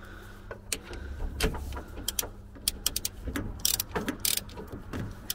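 A 3/8-inch drive socket ratchet loosens a bolt on a VW camper engine. It gives quick bursts of close clicking and rasping mixed with metallic clanks, with no talking.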